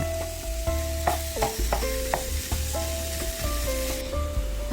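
Meat sizzles and crackles in a hot pan while a utensil repeatedly scrapes and stirs it for spaghetti bolognese, a busy, continuous frying sound close by.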